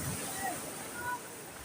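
Big sea waves surge and wash along a rocky shore near boats, a steady loud roar of surf mixed with wind buffeting the microphone.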